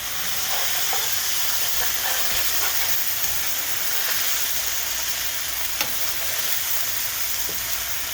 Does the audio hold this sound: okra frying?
yes